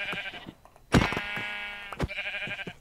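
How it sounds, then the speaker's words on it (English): Sheep in the Minecraft video game bleat in a few short buzzy calls, one loud bleat standing out among fainter ones, close and without talk. "Okay, I got some sheep over here."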